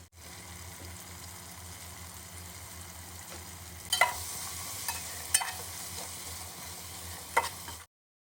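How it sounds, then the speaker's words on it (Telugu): Onions and tomatoes fry in oil with a constant close sizzle, and a few louder scraping stirs come in the latter half before the sound cuts off abruptly near the end. "ఆనియన్ టమోటా బాగా మిక్స్ అయ్యేలా కలిపి ఆయిల్ పైకి వచ్చేంత వరకు మనం బాగా ఫ్రై చేసుకోవాలి"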